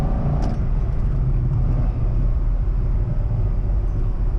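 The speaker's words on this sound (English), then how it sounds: "Here's a 4-3 downshift." C6 Corvette engine held in fourth, then a throttle blip on the 4-3 downshift: a loud, steady low rumble with a brief rise early on, alone without talk.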